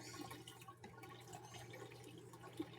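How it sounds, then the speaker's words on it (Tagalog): Water rushing steadily from a freshly cleaned filter, a strong continuous flow with a faint drip or splash near the end. "Ang lakas talaga ng tubig, oh."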